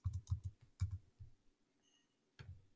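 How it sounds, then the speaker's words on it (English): Fingers typing a short ticker symbol on a computer keyboard at a trading desk: a quick run of close, crisp key clicks, a brief pause, then one more click, with no talking. "we're going to type in GLD"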